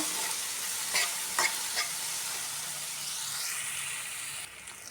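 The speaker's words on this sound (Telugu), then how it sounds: "ఇప్పుడు మీడియం ఫ్లేమ్లో పెట్టి దీన్ని ఫ్రై చేద్దాం ఇలా మధ్య మధ్యలో ఒకసారి కలుపుకుంటూ ఉండాలి" Brinjal fries in a pan over a medium flame, a steady close sizzle and hiss, with a few short scraping stirs near the start.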